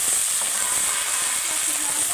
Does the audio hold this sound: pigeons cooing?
no